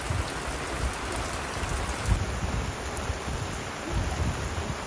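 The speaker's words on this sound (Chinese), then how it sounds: "现在突然下起了大雨，你看，突然下起了大雨，倾盆大雨" Sudden heavy downpour at a riverside campsite in Yunnan, a dense, steady roar of rain drumming on surfaces that continues unbroken and loud from start to finish, with no voices.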